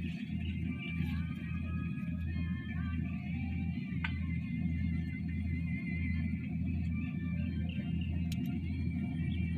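Motorized tricycle engine: a steady, close low rumble and drone runs throughout without a break, with faint clicks and rattles on top.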